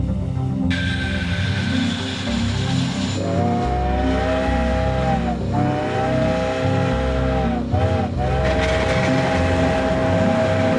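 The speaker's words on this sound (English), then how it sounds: "a modern diesel engine is used to haul the train up the narrow shoulder of the mountain." A heavy modern diesel locomotive drones and rumbles steadily as it hauls a train up a narrow mountain grade near Skagway, with shifting tones of the motor throughout, no voices.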